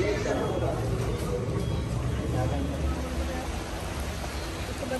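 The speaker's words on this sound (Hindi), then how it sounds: "बहुत तेज हो रही है बारिश" Heavy rain pours down in a dense, steady hiss, with faint indistinct voices in the background.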